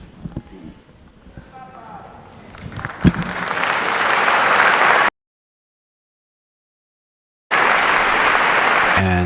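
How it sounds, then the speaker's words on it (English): A large crowd at a papal general audience applauds Pope Francis, swelling from scattered sounds into a broad, loud roar of clapping and cheering, cutting out briefly to silence before resuming at full strength. "with the applause for our Holy Father"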